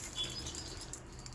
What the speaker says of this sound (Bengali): অনেক দিন পর পায়রা ওড়াচ্ছি।